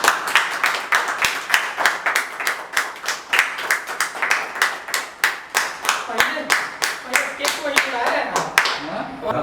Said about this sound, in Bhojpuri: ताली मारो भैया